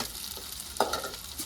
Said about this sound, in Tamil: நீ சட்டியை இறக்கி கீழே வச்சு வெங்காயம் போட்டு தாளிச்சிட்டு இருக்கியடி